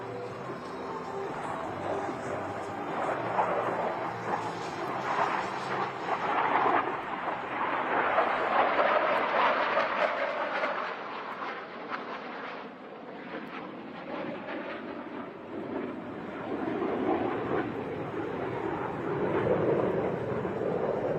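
Diamond formation of jets passing the flight line at an air show, a broad roaring rush that swells, holds and slowly fades, then builds again from a distance.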